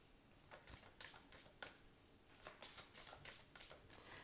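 Tarot cards being shuffled for a reading, quiet close riffling bursts repeating in quick clusters, with no talking over them.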